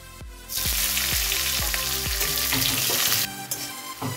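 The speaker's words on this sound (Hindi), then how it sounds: "थोड़ा सा इसमें डालेंगे कटा हुआ प्याज़" Chopped onion dropped into hot oil with whole dried red chillies, a loud steady sizzle that jumps up as the onion goes in, with several clear stirring knocks against the pan, then settles down near the end.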